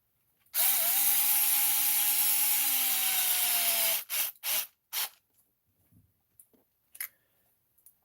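A power driver runs long screws into an RC car plate, a loud whirring drive of about three and a half seconds followed by a few short bursts and small clicks, close and alone.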